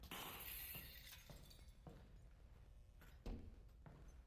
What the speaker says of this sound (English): I love broken glass.